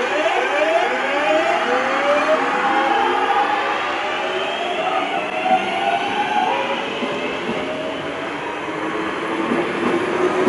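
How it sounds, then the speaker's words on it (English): A Class 323 electric train's GTO thyristor traction motors whine loudly and continuously, with rising and falling alien-like tonal sweeps over the rumble of the moving train. "Perhaps the most distinguishing feature of the Class 323s is their iconic, almost alien, traction motor sounds."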